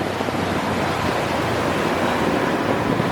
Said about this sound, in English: We've got the wind moving.